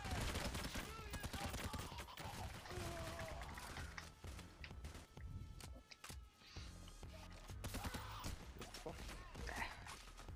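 Shotgun fire in the heist game Payday: The Heist booms amid a chaotic, busy soundscape, with repeated blasts and clatter through the clip while people talk at the same time.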